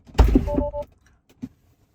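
A Tesla Model Y door's emergency release is pulled, giving a close, sharp mechanical clunk and rattle followed by a brief hum and a later single soft thud, with no talk.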